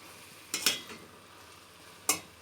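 Wilted spinach being stirred in a cooking pot, two short scraping clinks of a utensil against the pot over a faint low background, no voices.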